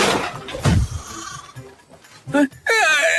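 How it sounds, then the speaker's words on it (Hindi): A goat in a Hindi animated comedy bleats in a short, wavering cry near the end. Cartoon voices talk over a busy backdrop of effects and music before it. "तभी एक बकरी भागती हुई आई"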